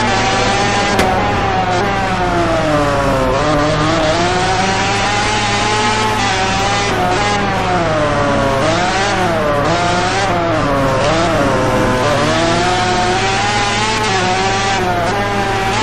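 MotoGP motorcycles race and accelerate hard at the Sachsenring circuit, their engines screaming continuously and loudly, with pitch rising and falling through gear changes as bikes pass close by.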